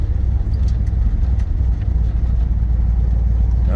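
A 1965 Chevrolet Corvette with a 4-speed gearbox driving along in second gear, a steady loud low engine drone and road rumble from inside the car with no talking.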